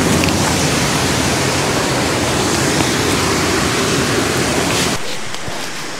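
Steady, loud rush of falling water from forest waterfalls fills the air, a dense broadband roar that drops away sharply near the end, leaving a softer wash.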